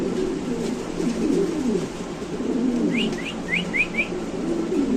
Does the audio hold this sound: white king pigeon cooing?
yes